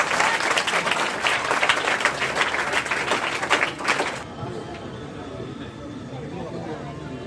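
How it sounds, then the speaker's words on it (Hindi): An audience at a retirement ceremony bursts into loud, dense applause for about four seconds, then it cuts off into a quieter room murmur with faint background noise. "ताली बजाए एक बार जोरदार।"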